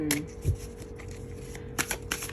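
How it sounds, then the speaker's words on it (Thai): A deck of tarot cards shuffled by hand up close, with several quick riffling bursts and softer slides of cards in between, no talking. "ขอสับให้ละเอียดเลยนะ"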